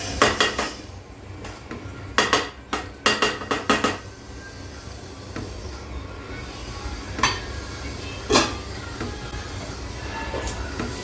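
Dishes and utensils clink and clatter in a sink under running water, with several sharp knocks early on, then steady rushing water with occasional clinks.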